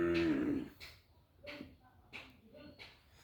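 A cattle calf lowing in a few short, fairly faint moos spaced about a second apart, following a louder voice at the start.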